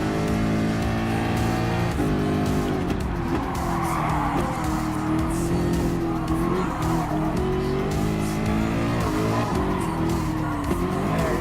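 Ford GT LM Spec II Gr.3 race car engine in Gran Turismo Sport, a loud sustained roar with rising and falling revs as other cars pass close by, tires squealing in places, continuous throughout.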